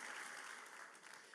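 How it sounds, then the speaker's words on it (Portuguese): A church congregation applauds its volunteers, a faint, steady patter of many hands clapping at a distance that fades slightly toward the end. "Vocês podem dar uma salva de palmas aqui para os voluntários aqui da igreja"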